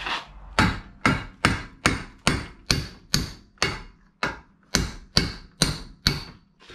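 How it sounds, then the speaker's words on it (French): A hammer taps a wire to drive out a wheel bearing part on a Porsche Cayenne V8, about a dozen sharp metallic blows in an even rhythm, close and clear, with no talking. "Donc à l'aide de mon marteau et de ça."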